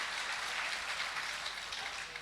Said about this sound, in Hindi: एक मरतबा आप इनके लिए तालियां बजाएं दोस्तों